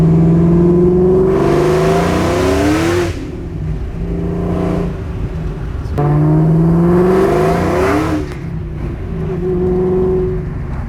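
A Ford SVT Cobra's V8 engine revs hard under acceleration in two loud, close surges, each pitch climbing through gear pulls before easing off, with a steady engine drone between them.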